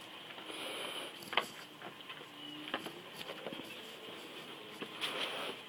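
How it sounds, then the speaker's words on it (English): Rain falling outside after a long dry spell, a soft, steady patter with scattered sharper drips and taps, some close by, running throughout at a gentle level. "that's a lot of rain"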